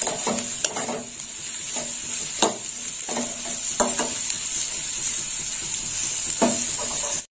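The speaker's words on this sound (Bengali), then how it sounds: "এইভাবে নাড়িয়ে চাড়িয়ে নিতে হবে" Ivy gourd and potatoes frying in a pan, a steady hiss of sizzling oil with repeated scraping strokes of a spatula as the vegetables are stirred, close and clear with no talking.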